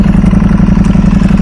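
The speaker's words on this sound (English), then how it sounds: "Pull the clutch, open, and then you hear the exhaust." A motorcycle (Ducati or MV Agusta) with a titanium Akrapovic exhaust runs at a steady, throbbing low note with rapid regular pulses, loud and close, and no voices.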